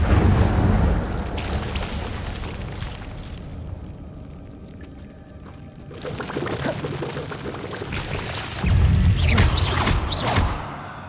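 Fire spell cast again and again in Hogwarts Legacy inside a cave, heard as loud whooshing, roaring bursts of flame that open the clip, ease into a quieter stretch and return strongly toward the end.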